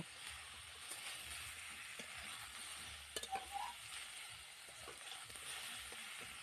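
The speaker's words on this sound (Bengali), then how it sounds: "এখন হলুদ ও লবণ দিয়ে আলু বেগুনটাকে কিছুক্ষণ কষে নেব।" Potatoes and eggplant stir-frying with turmeric and salt for a dried-fish curry, a faint steady sizzle with a few soft spoon scrapes midway and no talk.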